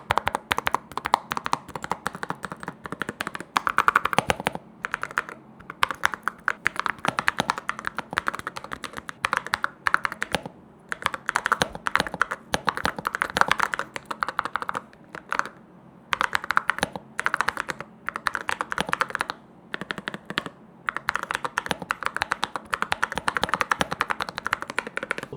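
Mechanical keyboards from Kickstarter clatter under steady, fast typing, with dense runs of crisp key clicks broken by short pauses, close and alone.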